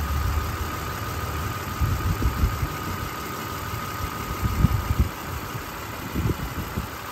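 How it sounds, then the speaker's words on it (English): A 2004 Toyota Tacoma PreRunner pickup engine idles steadily nearby, a low rumbling drone with occasional uneven knocks and throbs, no voices. "Engine runs great."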